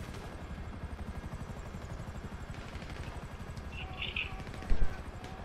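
A helicopter in GTA V Online sends out a steady low rotor thump that pulses evenly throughout, with a few sharp game sounds popping in near the end.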